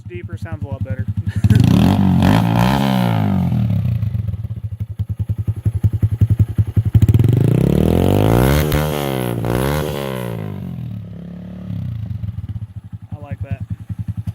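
Honda Grom motorcycle with an anodized racing exhaust and the baffle removed, idling with a deep, loud rumble and revved up twice, each rev climbing and falling before settling back to idle.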